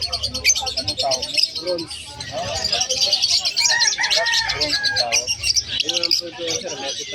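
A crowd of budgies in a bird shop chirps and squawks constantly in a dense, busy chatter, close and loud, while people talk over the birds.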